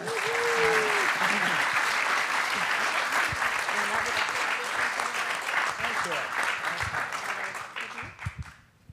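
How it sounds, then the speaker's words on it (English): An audience at a Stargardt disease summit gives the patient panel warm, sustained applause, loud and steady for several seconds before thinning out, with voices and cheering mixed in. "One more round of applause for our"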